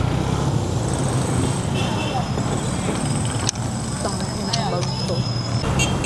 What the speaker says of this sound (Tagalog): Maraming tricycle.